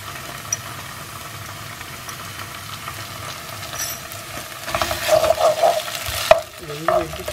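Ginger garlic paste sizzles in a pan with onions for chicken masala, a quiet crackle that swells into louder stirring and scraping near the end.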